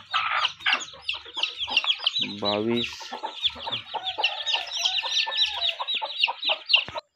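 A hen clucks and chatters close by, with high peeping chicks from a fresh brood of about 22 chicks around her and a brief rooster-like call in the middle; someone speaks a few words.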